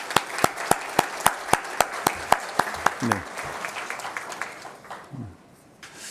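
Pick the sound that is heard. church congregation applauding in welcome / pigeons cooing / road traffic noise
church congregation applauding in welcome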